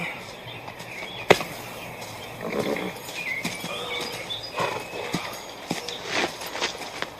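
Horses moving on the ground in a western setting, scattered hoof clops and thuds at close to mid distance, irregular rather than a steady gait, with rustling and a sharp knock early on.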